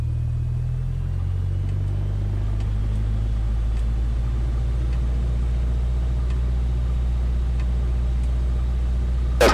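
A small training airplane's piston engine throttles up to 1700 RPM for a run-up, a steady loud low rumble close by that holds continuously throughout.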